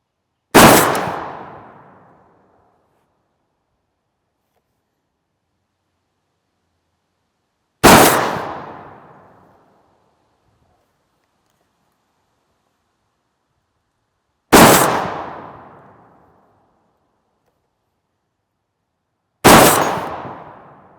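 Four single shots from a Barrett .50 BMG rifle with a muzzle brake firing Prvi Partizan 725-grain solid match rounds: each a very loud, sharp blast with a long decaying boom, spaced several seconds apart.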